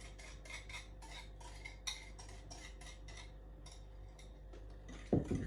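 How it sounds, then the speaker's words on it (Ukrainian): Eggs being stirred into a yeast starter dough for cruffins, a utensil clicking steadily against the bowl in a quick, even rhythm, quiet and close, ending with a louder knock. "тепер змішую яйця з опарою"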